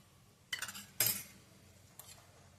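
A spoon clinks softly against a dish as sugar and ghee are added, giving two close, quiet taps about half a second apart and then a fainter third one.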